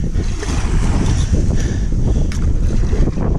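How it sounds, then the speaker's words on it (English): Strong wind buffets a river near rapids, roaring steadily and loudly against the microphone with a rushing water wash underneath, continuous across the whole stretch. "that wind is really kicking through right here"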